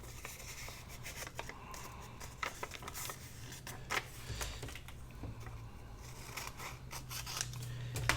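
A handheld tab punch cuts a tab shape from a book page for a homemade file folder, giving several short sharp snips and crunchy paper clicks over a steady low background hum.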